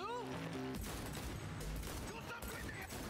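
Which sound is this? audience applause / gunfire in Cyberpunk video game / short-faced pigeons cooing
gunfire in Cyberpunk video game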